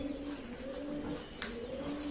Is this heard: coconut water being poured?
no